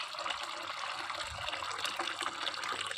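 Water poured steadily outdoors, a continuous close splashing and trickling stream with wind in the air and no talking.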